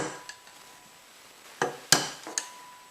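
A hammer gives a few light metallic taps, three or four sharp strikes close by in a quiet room, tapping a bearing out of an iOptron Cube telescope mount; the last ones spaced a bit apart.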